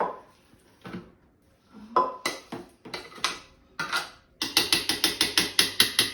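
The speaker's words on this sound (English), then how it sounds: "I'm doing it in my food processor." A food processor mixing custard with 1.5 cups of butter: sporadic clunks and whirs at first, then a run of rapid, evenly spaced mechanical knocks, loud and close.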